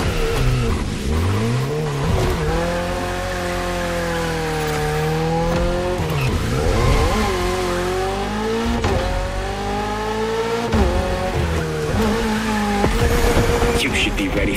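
A Toyota GR86 with a lightweight, naturally aspirated engine races through neon-lit city streets in a video game. Its engine revs rise and fall in loud sweeps, and bursts of tire squeal come through the corners while a voice talks over it.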